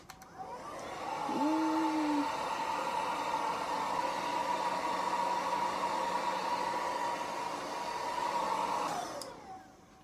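A LESASHA Bio Ceramic hair dryer switches on with a click and blows with a steady, close airy whir for several seconds, then cuts off with another click.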